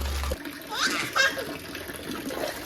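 A child is bathed while water splashes and sloshes nearby, with soft, irregular bursts of movement and a voice mixed in.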